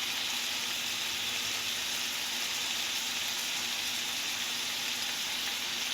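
Burgers fry in a hot pan on high heat, a steady, even sizzle that holds at constant loudness throughout, close up with no talking.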